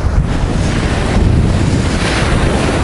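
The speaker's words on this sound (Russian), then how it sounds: "Вот докуда волна бьет." Storm surf pounds the Black Sea shore at Adler, Sochi, under roaring wind, a loud, continuous wash of crashing waves mixed with heavy wind buffeting on the microphone and no talk.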